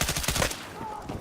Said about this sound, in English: So yeah, we're on burst fire now with a stubby grip.